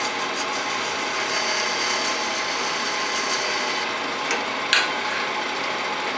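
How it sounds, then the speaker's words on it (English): A wood lathe tool cutting a small groove at the joint of a turned wooden box makes a continuous, fairly loud hiss and whir, with a brief sharper scrape near the end. "Now I want to make a little groove at the joint, and I'll use this same tool."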